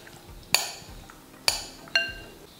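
A glass baking dish is handled during cooking prep, giving three sharp clinks, each ringing briefly with a light glassy decay, spaced about a second apart and fairly close.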